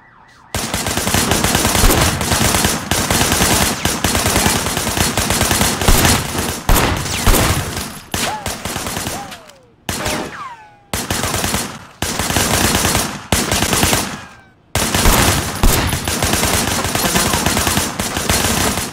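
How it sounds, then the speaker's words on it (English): Loud automatic gunfire in the action game Sleeping Dogs, fired from behind a barricade, rattles in long sustained bursts broken by a few short pauses, with no talking over it. "I want you to put some bullets in a few things."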